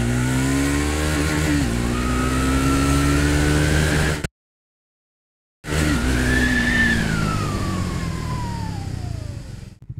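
A Triumph Speed 400 motorcycle accelerating hard in first gear into a wheelie, its single-cylinder engine revving up in a loud rising whine, cutting off briefly, then screaming up again before fading.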